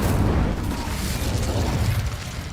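Incendio fire spell cast in the Hogwarts Legacy video game, a loud, sustained roaring burst of flame with heavy low rumble and crackle lasting a couple of seconds, no voices.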